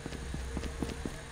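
Horse hooves in the Call of Duty Mobile video game, a quick, faint clip-clop of galloping steps under steady game ambience.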